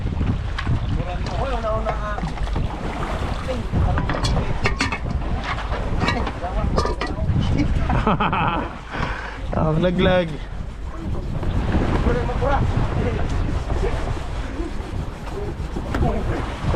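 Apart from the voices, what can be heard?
strong wind on boat at sea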